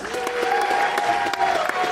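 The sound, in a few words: audience applause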